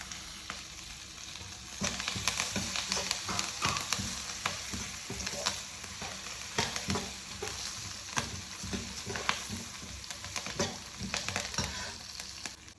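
Curry leaves and asafoetida frying in hot oil, a busy crackling sizzle with sharp pops and spatters throughout, fairly close and without voices.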